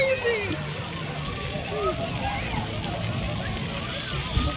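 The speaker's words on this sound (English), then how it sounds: "So we at the water park, and I'm not getting in the water" Water sloshes and splashes steadily at a crowded outdoor water park, a constant wash of noise with a busy crowd murmuring throughout and a voice speaking now and then over it.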